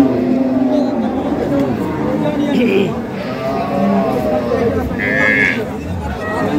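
A Jersey cow lowing amid a noisy cattle market crowd, with steady chatter and background voices throughout.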